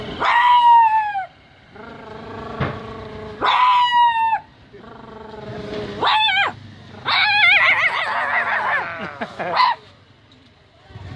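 A voice imitates a hungry, distressed dog with a run of whining yelps, howls and whimpers in several bursts, near and loud with short pauses between them.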